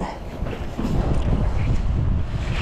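Strong wind blusters at sea by a small fishing boat, rumbling and buffeting the microphone in continuous gusts, with water sounds beneath.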